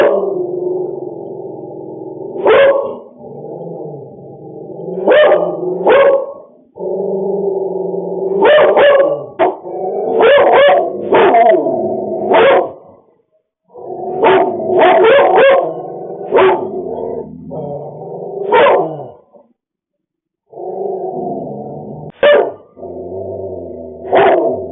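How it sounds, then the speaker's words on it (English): Several dogs bark loudly and persistently, with overlapping yips and growls in rapid bursts, pausing briefly now and then before starting up again. "I bet the dogs are going nuts."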